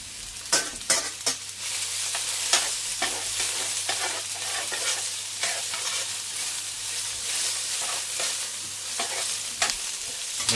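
Beef stroganoff frying in a pan with a steady close sizzle, broken by repeated scraping and clacking strokes of stirring, and no talk.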